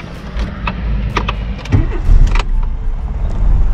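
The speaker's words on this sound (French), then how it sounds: "Le moteur, il tourne." A Volkswagen Golf 2 with a four-speed gearbox cranks and catches almost at once, then settles into a close, steady idle with a rough low rumble after a few clicks and rattles, with no talking.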